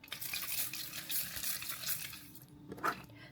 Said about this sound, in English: Next, I'll go in with a spring water spray to help calm the skin even more.